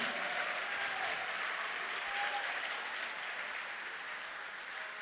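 A church congregation applauds steadily throughout, a dense sustained wash of clapping at moderate loudness that eases slightly toward the end, with no speech over it.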